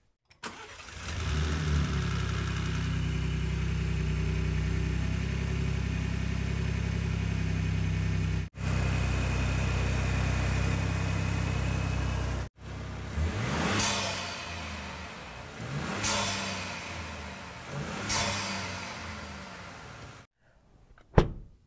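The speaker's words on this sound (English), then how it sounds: "the sound of that intake and draw pipe is great" A 2024 Ford Ranger Raptor engine with a new intake starts and idles steadily with a deep, throaty rumble, then revs up several times in quick succession before cutting off.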